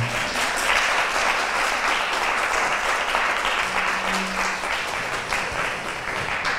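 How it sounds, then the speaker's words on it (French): Audience applause, continuous and fairly dense clapping at moderate level that carries on evenly throughout without pause. "Des applaudissements? Oui."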